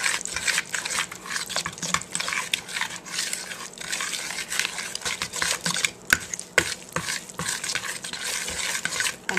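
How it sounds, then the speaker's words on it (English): Fork stirring lumpy quinoa blueberry pancake batter in a bowl, a steady scraping, clinking swirl that runs continuously and fairly close, with occasional sharper taps against the bowl. "We're going to just mix this all together."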